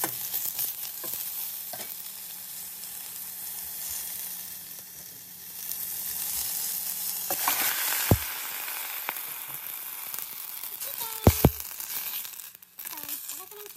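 Chicken pieces browning in a hot pan for Canadian-style tinola, sizzling steadily with scraping stirs, the frying growing louder and busier in the second half, with a few sharp knocks of a utensil near the end.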